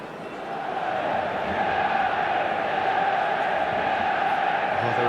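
Stadium crowd roaring at Old Trafford in the eFootball 2022 football game, a broad, steady wall of cheering that swells over the first second and then holds loud and unbroken.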